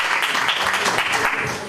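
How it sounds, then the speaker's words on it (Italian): Audience applause at an award ceremony for legality in Joppolo Giancaxio, a steady wash of many hands clapping that holds level and fades slightly at the end. "c'è un applauso"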